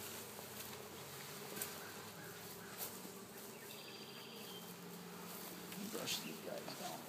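Honey bees buzz around an open beehive being worked, a steady, faint hum of many insects close by throughout, with occasional soft handling noises.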